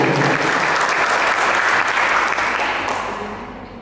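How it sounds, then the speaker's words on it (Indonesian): Sustained audience applause at a formal library training opening event in West Papua, steady clapping from a crowd that fades slightly toward the end. "Mari kita berikan aplaus sekali lagi"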